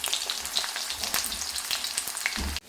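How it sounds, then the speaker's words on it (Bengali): Potatoes frying in a pan with hot oil, a close, steady crackling sizzle with scattered pops, ending with a sudden clatter and cutoff. "আলুটা দিয়ে কিছুক্ষণ ভাজতে ভাজতে"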